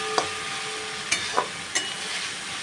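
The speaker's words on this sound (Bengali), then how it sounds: "2-3 মিনিট এটাকে মশলাটাকে কষাই মাছটার সাথে।" Prawns frying in a pan with potato, onion and spice masala for a prawn do-pyaza, a steady quiet sizzle with a few sharp scraping clicks from stirring.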